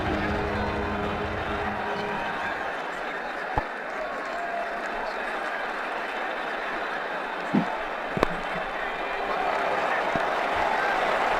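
In Ashes Cricket 2009, a stadium crowd's applause rolls on as a steady, moderately faint hiss of clapping, broken by a few sharp clicks and short thumps, with commentary talk faint underneath.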